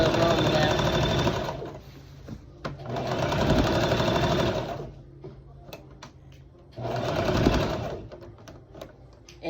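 A sewing machine runs a seam for a child's Dickies workwear dress, with three loud bursts of fast, even stitching separated by pauses that hold quiet handling clicks and soft talk.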